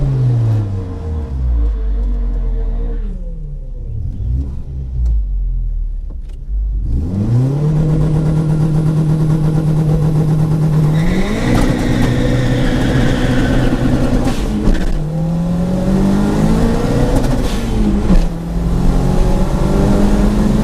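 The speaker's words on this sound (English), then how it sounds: "racing a 2-liter 8-valve Mark 1 Golf" A 2-liter 8-valve Mark 1 Golf race car engine revs hard and loud, dropping briefly before climbing through sustained high-rpm pulls with gear-change dips, close and continuous with no voices.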